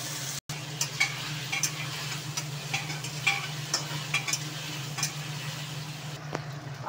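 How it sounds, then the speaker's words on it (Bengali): Potatoes fry in a pan, making a steady moderate sizzle broken by repeated short scrapes and taps of stirring, close and without talk. "আলুগুলো তুলে দিলাম, একটু লাল করে ভাজবো আলুগুলো।"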